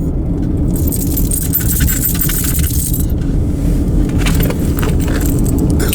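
A car drives along a road near the small town of Concrete, Washington, giving a steady, loud interior rumble of engine and tires with light rattling throughout and no talking.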